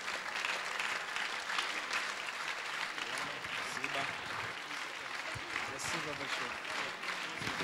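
Sustained applause fills a church service after a water baptism, with many hands clapping in a dense, even wash that stays fairly constant, along with some voices in the crowd.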